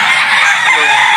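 A gamefowl rooster on a game farm crows in one short, loud, nearby burst, with no one talking.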